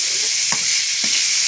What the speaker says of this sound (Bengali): আমি পেঁয়াজটা ভালো করে লাল লাল করে ভেজে নেব